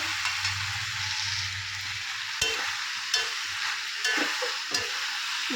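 Mixed vegetables sizzle steadily in a hot pan, with occasional sharp scrapes and clanks of a spatula stirring them.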